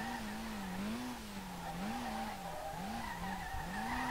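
Car tires skidding in a drift in the racing game SLRR, a steady wavering squeal over continuous engine drone, with the pitch dipping and rising as the slide shifts, loud and close throughout.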